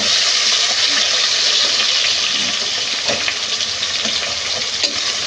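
Chopped onions frying in a pan with cardamom, cinnamon, two dried chillies and bay leaf, giving a loud, dense, continuous sizzle close by, with faint stirring scrapes and no talking.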